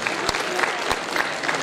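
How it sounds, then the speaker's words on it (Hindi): Audience applause at a literary and music award ceremony in India, a steady patter of many hands filling the hall at moderate volume, with a few sharper claps standing out. "तालियां होनी चाहिए"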